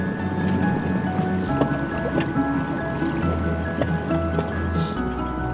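A speedboat runs across Arctic sea water, a steady engine drone under constant rushing water and spray from the hull, close and loud with no voices.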